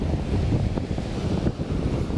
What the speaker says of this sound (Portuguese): Bastante vento aqui. Talvez o áudio não vai ficar muito legal